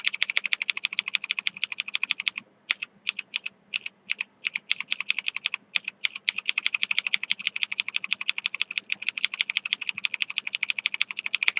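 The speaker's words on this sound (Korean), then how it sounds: "키보드 G 눌러서" Fast, continuous typing on a computer keyboard while working in Cinema 4D on a cloth simulation, crisp close key clicks in dense bursts with a couple of brief pauses, no voices.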